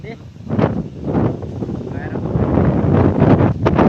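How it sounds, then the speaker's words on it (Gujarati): Strong gusty wind buffets the microphone in an open village location, rumbling continuously and swelling louder toward the end. "એ વાયરો તો એટલો બહુ વાયરો આવે છે, એટલે અવાજમાં થોડું પ્રોબ્લેમ થતી છે"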